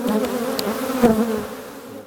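Honeybees buzz steadily around an opened beehive in an apiary during a spring inspection after bad weather, a loud, close, continuous drone with individual bees passing near, no voices.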